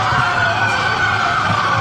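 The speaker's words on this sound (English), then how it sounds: "the event was drowned out by a throng of protesters outside blasting whistles and bullhorn sirens" Sirens from a crowd of protesters outside an event, sounding as a steady, loud, continuous wailing tone that fills the whole stretch with no talk over it.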